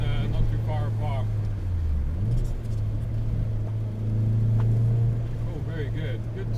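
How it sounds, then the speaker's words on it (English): A car engine booms low and steady while driving, a deep droning hum that dips briefly and swells again, with a person talking over it throughout. "quite a boomy engine, so it encourages you to keep maybe changing up earlier"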